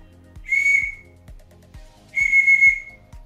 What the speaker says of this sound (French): C'est un sifflet, j'ai l'impression.